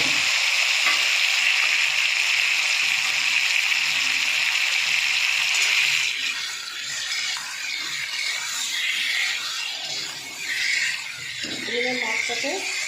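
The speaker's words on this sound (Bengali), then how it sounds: "তো বন্ধুরা, এবার মাছগুলো আমি দিয়ে দেবো।" Fish goes into hot oil with black cumin, a loud steady sizzle that drops in level after the fish is added and keeps crackling, with a person talking over it.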